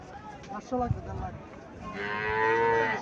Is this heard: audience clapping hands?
no